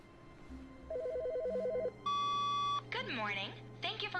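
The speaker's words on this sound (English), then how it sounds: "Oh, another phone call." A telephone rings in The Stanley Parable video game, electronic ring-tone bursts repeating steadily after some beeps, fairly loud over background game music before a voice begins speaking.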